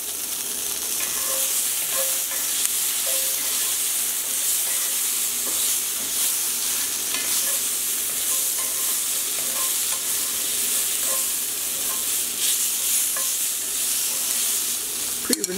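Ginger and garlic stir-fry in a hot pan with a constant bright sizzle, and a spatula scrapes and taps the pan at intervals.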